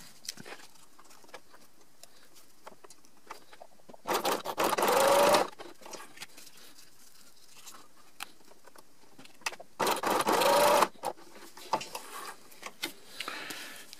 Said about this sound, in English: I'll start by doing a rolled hem on the ends.